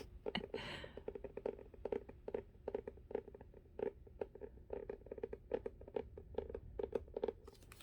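Fingertips tap rapidly on books, a dense patter of light, crisp taps that evokes rainfall, steady and close throughout with no talking.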